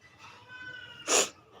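A cat meows nearby, a soft drawn-out call followed by a short, louder sneeze-like burst.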